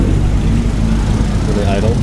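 Several cars idle together at an outdoor cars-and-coffee show, a steady low rumble of engines that holds throughout without any revving or talk over it.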